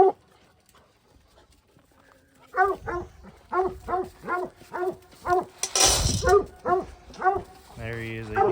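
Puppy eating in a kennel, with a run of regular chewing and crunching sounds close by, joined near the end by a brief louder clatter and a short whine.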